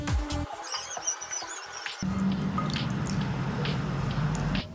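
Yellow lining is peeled by hand off raw chicken gizzards, giving wet squishy pulls and sticky clicks, close and alone with no voices.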